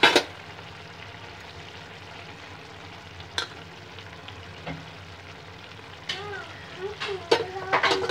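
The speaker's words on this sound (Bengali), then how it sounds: "এটা পুরো ফুটতে শুরু করেছে, অনেক পুরোটাই ফুটে গেছে" Chicken curry sauce bubbles and sizzles in a pan at a steady close simmer, with a few sharp clinks and spatula scrapes near the end.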